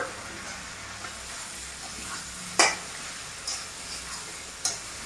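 Masala being stirred in a kadai while cooking a Bengali-style prawn curry, giving a steady low sizzle with a few sharp scraping clicks of the spoon against the pan, fairly close and without talk.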